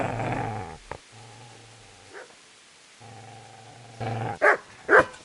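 A dog growls low and steady in the game Kingdom Come: Deliverance, then breaks into a few sharp close barks at the end.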